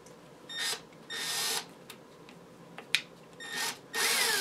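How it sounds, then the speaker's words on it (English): A power drill bores holes in wood on a workbench during an old radio receiver restoration, whining in several short bursts of about half a second each, close and fairly loud with quiet pauses between. "so I'm going to drill some holes, a couple of them"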